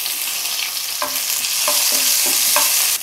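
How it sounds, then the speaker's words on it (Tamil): Mustard seeds and urad dal frying in hot ghee for tomato idli tempering, a steady sizzle with several sharp pops and crackles of bursting seeds, close and fairly loud, with no talking. "கடுகு உளுத்தம்பருப்பு நல்லா பொரிஞ்சு வரணும்மா,"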